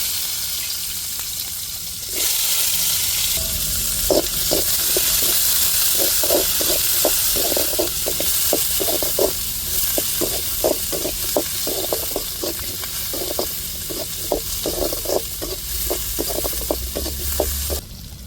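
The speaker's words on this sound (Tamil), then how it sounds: "இப்போ கடுகு சேர்த்துக்கிடுவோம் இப்போ வெங்காயம் சேர்த்துக்கிறோம்" Mustard seeds and chopped onion frying in hot oil in a home kitchen, a steady loud sizzle with a rapid run of small crackling pops and spatters throughout, no talk.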